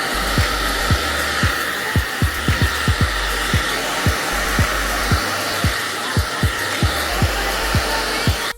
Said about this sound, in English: I'm just blow drying to the rest of the hair, getting the ends